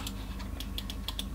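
The buttons of a wired 11-button gaming mouse click in quick, irregular succession. The crisp clicks are close and moderately loud, with a low hum underneath and no talk.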